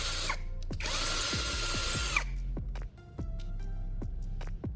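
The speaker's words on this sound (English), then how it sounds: "Even after drilling multiple holes continuously, the drill still operates strongly without any signs of weak power or sudden shutdowns." A cordless drill with a restored battery bores holes; a loud whining burst runs for over a second, then several short taps and brief spin-ups follow, close and without talk.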